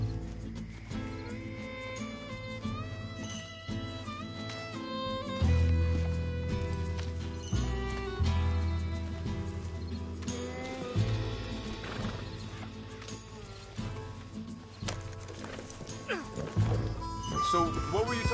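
Horse hooves clip-clopping while riding in the video game Red Dead Redemption 2, a steady rhythmic beat with occasional whinnies under game music and talk between riders.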